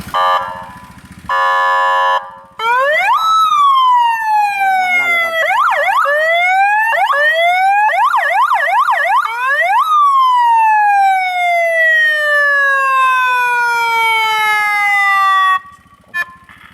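Loud 60-watt emergency siren on a Thai rescue rapid-response vehicle cycling through tones: a rising wail, rapid yelping sweeps, then long falling wails, close and piercing.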